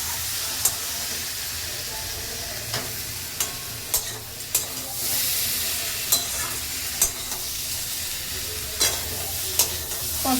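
Spices sauté in a pan with a constant hissing sizzle, punctuated by sharp clicks and scrapes of a spoon stirring now and then, near and fairly loud, no speech.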